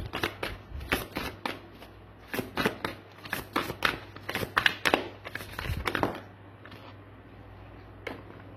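Tarot cards being shuffled and drawn, a run of crisp riffling and slapping card noises in quick bursts up close, falling quiet near the end with one last faint snap.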